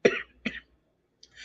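A man coughs twice in quick succession, close and sharp, then a brief rough throat sound follows after a short pause.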